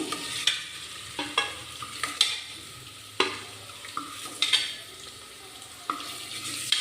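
Eggs frying in oil in a pan for homemade egg biryani, a soft sizzle punctuated by repeated sharp scrapes and stirring clatters of a spatula at irregular intervals.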